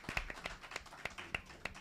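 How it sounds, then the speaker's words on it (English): Small audience at a Sufi music event clapping, sparse and fairly close, with distinct individual claps in an uneven rhythm rather than a full ovation. "We can kind of make some noise and give him some applause."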